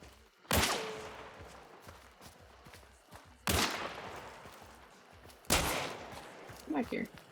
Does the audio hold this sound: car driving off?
no